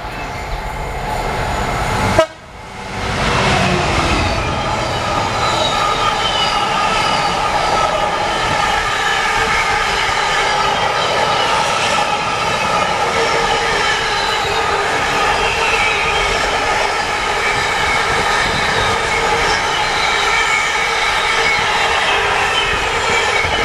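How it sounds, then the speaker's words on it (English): A railway track machine, probably freshly repainted, rolls steadily past on the line. Its loud, continuous rumble of wheels and rail noise holds from start to finish after a sharp knock near the beginning. "Look at that, a nice new track machine."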